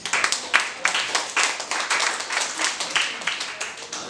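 Audience applause at a comedy night, a steady wash of many hands clapping with irregular bursts, moderately loud and sustained throughout.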